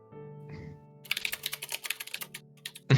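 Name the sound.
computer keyboard typing, clicky keys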